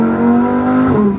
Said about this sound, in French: Lamborghini Huracan Evo Spider. C'est un petit bijou. Je peux vous garantir que le bruit,